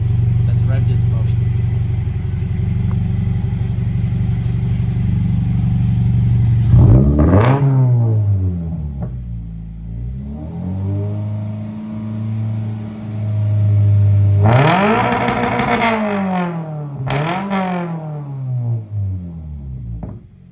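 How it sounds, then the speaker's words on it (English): A 2022 Subaru BRZ / Toyota GR86 with an AWE catback exhaust idles with a low, steady burble, then is revved hard several times, each rev climbing and falling back close and loud. "Let's rev this puppy."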